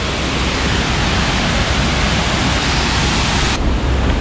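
A constant loud rush of a waterfall in a river valley roars without a break, a dense broadband wash of sound close by.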